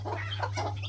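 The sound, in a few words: broody hen chicken growling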